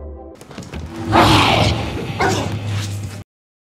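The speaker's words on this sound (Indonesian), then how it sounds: "tiba-tiba saja terdengar geraman" A dog growls and snarls up close, with a loud, rough burst in the middle of the clip and a second snarl near the end, over a low steady hum.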